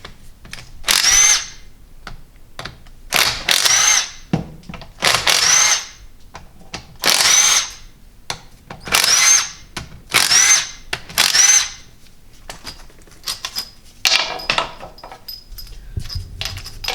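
A power tool spins out the front pump bolts of a 4L80E transmission from a 6.5L diesel, in loud whirring bursts of about a second each, repeated several times with short gaps and light metallic clinks.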